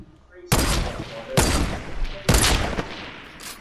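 Three sharp, loud gunshot blasts in the Fortnite video game, fired at uneven intervals about a second apart, each with a brief ringing tail and no talking over them.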